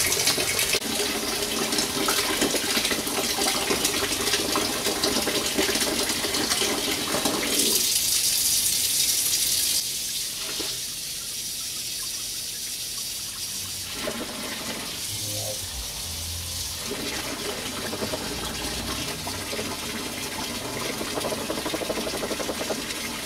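Tap water runs and splashes steadily into a filling ice bath for cooling a flask of beer wort, loud and close, briefly easing off and changing tone before rushing again.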